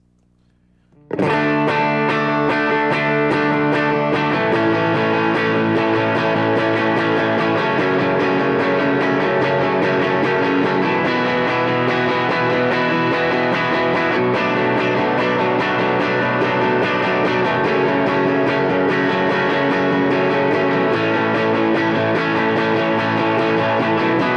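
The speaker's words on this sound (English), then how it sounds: "So I'm gonna add my overdrive, my verb and delay" Electric guitar run through overdrive, reverb and delay, playing a bridge part for a worship song: one struck chord blooms into a dense, sustained distorted wash that holds loud and steady for the whole stretch, with no talking.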